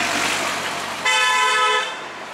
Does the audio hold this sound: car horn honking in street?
yes